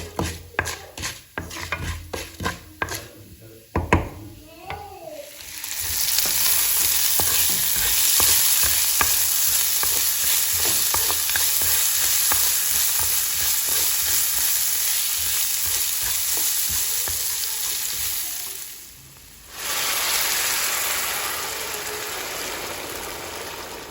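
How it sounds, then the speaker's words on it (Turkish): A loud, steady sizzle of chicken breast frying in a hot pan, starting after some clattering and stirring, with a brief dip before the sizzling resumes. "Hemen tavaya tavuk atacağım."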